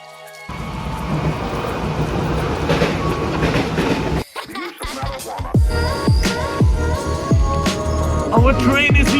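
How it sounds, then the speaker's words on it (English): A commuter train pulls into a station in Jakarta with a loud, close rumble, then a steady run of clattering wheel clacks over rail joints as the cars roll past. "Our train is here!"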